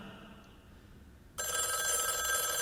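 A telephone bell bursts into loud, continuous ringing partway through, following a quiet stretch of dramatic-reading background.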